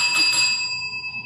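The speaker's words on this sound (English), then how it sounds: "Once you hear the sound of this bell" A single handbell rings out in a classroom, bright and clear, its tone lingering and slowly fading over about a second, with no talking.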